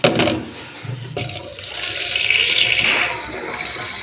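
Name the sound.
water running at a sink for washing a stamp set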